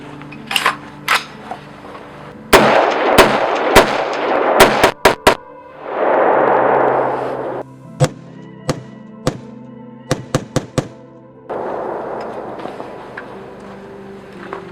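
An AR-15 rifle with a standard 16-inch barrel and A2 flash hider firing outdoors at night: loud, sharp shots, some single and some in quick clusters, separated by stretches of rushing broadband noise.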